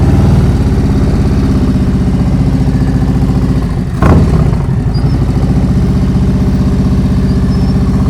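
A motorcycle engine idles and runs at low revs during slow-speed riding practice in Washington, a steady, loud, close drone with a brief dip and surge near the middle.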